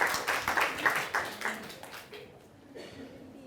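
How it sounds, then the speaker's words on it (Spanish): An audience at an education talk applauds for Gabriel: a dense patter of clapping for about two seconds that quickly thins and fades into near quiet. "Un aplauso para Gabriel."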